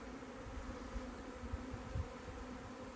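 A honeybee colony drones faintly and steadily during a hive inspection, with a few soft low thumps from handling the frames.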